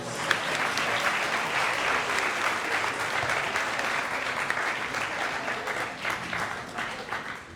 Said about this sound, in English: let's give everybody who presented in this first half a huge round of applause